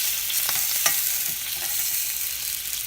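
Onions frying and charring in a hot pan for salsa, with split tomatoes, giving a steady loud hiss and sizzle throughout with faint crackles, no voices.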